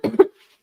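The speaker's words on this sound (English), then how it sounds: "I don't like people hearing me coughing." Two short, sharp coughs from one person, close and loud, the second slightly stronger, followed by silence.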